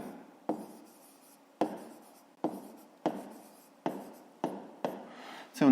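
Pen writing numbers by hand on paper while working a fifth-grade math exercise: a series of about eight distinct scratchy strokes, each starting sharply and trailing off, close and clear with no talking.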